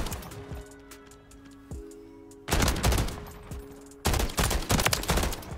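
Bursts of automatic gunfire from the DG 56 in a Call of Duty MW3 multiplayer match, loud rapid volleys in two stretches after a quieter lead-in with faint distant shots.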